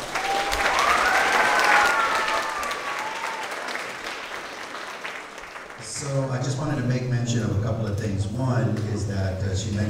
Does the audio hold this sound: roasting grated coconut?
no